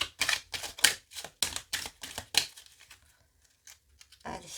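Tarot cards shuffled and drawn from a deck make a quick series of close, crisp papery flicks and snaps, then a pause before a few softer slides.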